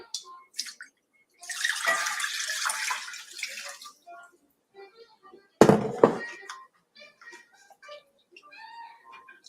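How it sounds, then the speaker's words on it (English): Tap water runs into a cooking pan that will poach spinach and ricotta dumplings, a steady broadband rush lasting a couple of seconds, followed by a sharp knock of the pan and quieter clatter. "we'll get the water in there now so it gets heated"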